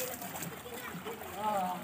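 Kids splash about in a homemade backyard swimming pool, the water sloshing and splattering continuously at close range while children shout and talk over it.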